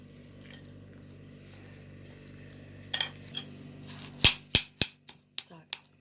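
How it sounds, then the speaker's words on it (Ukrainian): A spoon mixing cottage cheese filling with raisins in a bowl for buns and pies, giving a run of sharp, bright clinks against the bowl that start sparse and quicken near the end, close by and fairly quiet. "перемішуємо наші всі інгредієнти"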